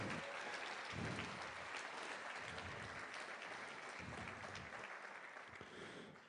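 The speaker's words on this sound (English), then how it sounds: "I want the biggest round of applause we've had here tonight" A crowd at an evening charity gala applauds after a paddle-raise fundraising segment, a sustained, even roar of clapping that holds steady, then thins and fades at the close.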